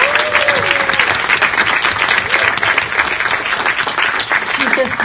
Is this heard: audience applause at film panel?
yes